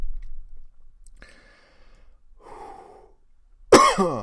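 A sudden loud cough bursts out close to the microphone after some quiet breathing and faint mouth sounds.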